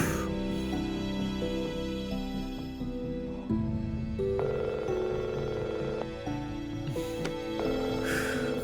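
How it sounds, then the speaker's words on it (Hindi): A telephone rings with a repeating electronic tone pattern over a background tune, steady and moderately loud, with faint voices mixed in. "फोन उठाओ महानूर, फोन उठाओ"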